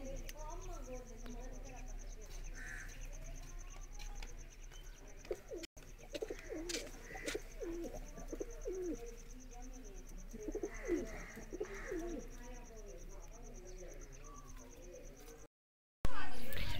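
Domestic pigeons kept in nesting boxes, some sitting on eggs, coo in soft repeated murmurs close by, with a steady background hum and someone talking over them at times.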